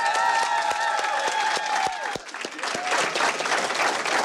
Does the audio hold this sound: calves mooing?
no